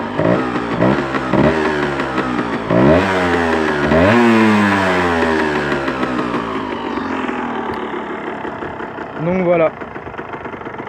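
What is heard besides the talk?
Honda MTX 125 R motorcycle engine idling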